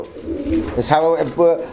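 Pigeons offered for sale coo loudly and close by, giving two throaty, warbling coos in quick succession.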